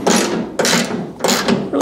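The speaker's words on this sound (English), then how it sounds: "We'll just tighten up these top bolts." A ratchet tightens bolts on a 1967 Camaro, sounding in three quick close bursts of clicking, each about half a second long.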